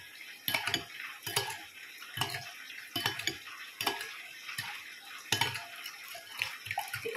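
A spoon stirs pepper into a pork and tofu dish in a pot, with a repeated series of metallic scrapes and clanks about once a second over a faint sizzle.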